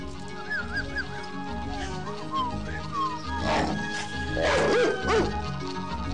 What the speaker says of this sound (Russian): И злые собаки.